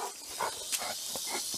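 Small rattlesnake in a food forest giving a continuous broadband hiss, close and steady for the whole moment, with faint brief background sounds and no clear talking.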